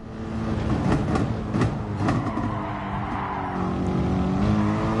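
A race car in GT Sport on PS4 brakes and drops down to second gear for a corner, with several sharp engine blips as it downshifts, then settles into a steady, rising engine drone.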